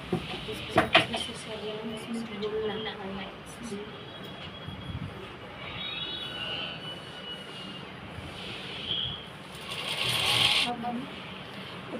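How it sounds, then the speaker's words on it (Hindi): A sewing machine stitches a trouser leg in short runs of mechanical whirring and clatter, with knocks and handling noises and a louder buzzing stretch near the end. "तो हम एक पैर की पहले पूरी सिलाई लगा लेते हैं।"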